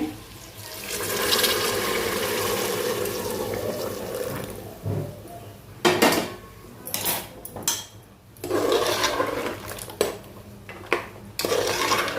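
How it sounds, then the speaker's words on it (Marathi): Hot water pours and splashes into a metal pressure cooker with mutton trotters, with clattering of utensils and a few sharp knocks and scrapes between the pours. "मी त्याच्यामध्ये हे गरम पाणी टाकते"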